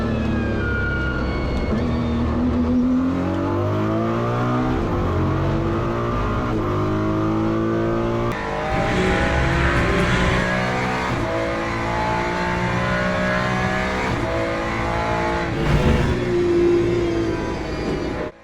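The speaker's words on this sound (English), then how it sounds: "if you want to know what a 296 sounds like in real life, you've got to drive an LMU" Ferrari 296 GT3 race car engine in the Le Mans Ultimate racing game, a loud continuous high-revving roar rising and falling through gear changes, heard alone for the whole stretch.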